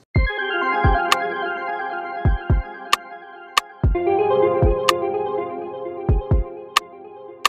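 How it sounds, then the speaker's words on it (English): A sparse programmed beat from Logic Pro X's stock drum plugin plays deep kick thumps and sharp clicky hits over a sustained synth chord, looping in a simple steady pattern. "So a really simple drum pattern like that."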